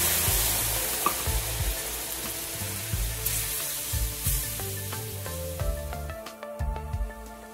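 White wine poured into a hot pan sizzles and reduces, a loud close hiss that gradually thins and fades toward the end, mixed with occasional stirring scrapes and clicks.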